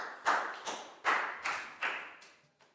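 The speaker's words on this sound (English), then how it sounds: "Big round of applause for Pakbung" A small class of pupils claps for a classmate during a Year 4 science lesson, five or six sharp, separate bursts of clapping close by, each quickly fading, ending with a faint final clap.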